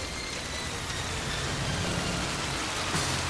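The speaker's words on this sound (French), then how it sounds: "Je vais concentrer toute cette averse sur les arbres." A heavy cartoon rain downpour conjured by magic, a dense continuous hiss of falling water that stays steady and loud for a few seconds with no voices.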